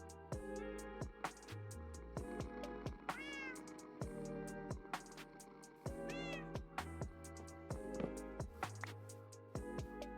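Several cats meow in a video game, cartoonish repeated calls spread across the scene with other game sounds and background tones, fairly clear and close with no talking.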